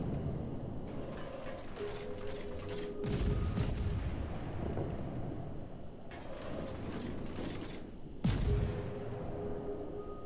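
Naval gunfire and shell hits in the World of Warships video game: a rumbling mechanical background with two sharp, loud booming salvos, heard alone with no speech.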